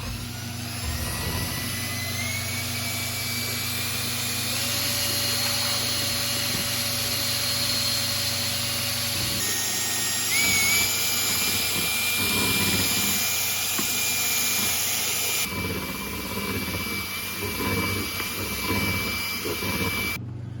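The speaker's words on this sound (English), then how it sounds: "we'll just take our mixing drill with a paddle, and we're going to mix it at a moderate speed for about 2 minutes" A mixing drill with a paddle stirs countertop epoxy in a bucket at moderate speed, a steady continuous motor whine with shifting pitch running throughout, fairly loud and close, with no talking.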